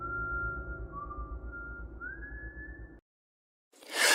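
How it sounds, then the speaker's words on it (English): Whistling at night, a thin sustained tone that holds, slides and rises over a low background rumble for about three seconds, then stops abruptly before a burst of noise. "don't whistle at night."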